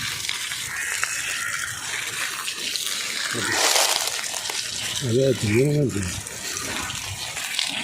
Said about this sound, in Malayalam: ഒരു മിനിറ്റ് കുറച്ചുകൂടി നനക്കട്ടെ